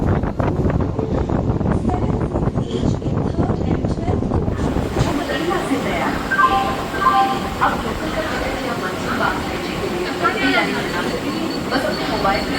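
A Mumbai local train on its last late-night run from CSMT to Kasara, heard from inside an empty compartment: a steady, loud rumble of wheels and carriage noise with wind buffeting throughout, plus some indistinct voices.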